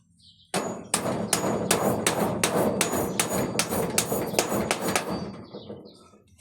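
Hammer blows drive nails into wood during a kitchen repair, about a dozen sharp, evenly spaced strikes landing close and loud, one after another, with no talking.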